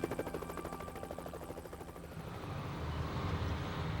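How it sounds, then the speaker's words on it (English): Helicopters circle overhead during a nighttime search, giving a steady rhythmic rotor chop that stays faint and distant throughout with a low engine rumble underneath. "They scanned the area inch by inch as choppers circled overhead."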